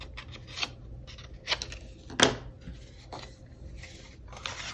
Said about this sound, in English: just cut this so I can get in there